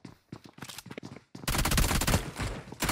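Gunfire crackles in the mobile battle royale game BGMI: several short scattered shots come first, then a loud, dense automatic burst lasting over a second and a final shot, all close and without speech.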